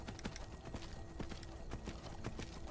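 Horse hooves clip-clop in the video game Skyrim, with quick irregular hoofbeats close by over a steady background bed and no talking.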